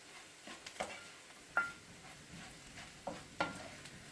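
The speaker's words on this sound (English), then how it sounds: "So I'm going to tip the mushrooms in so they can start off cooking." Mushrooms cooking in a pan with risotto rice, giving a low sizzle broken by a few sharp clinks and scrapes of stirring, close and fairly quiet with no talk.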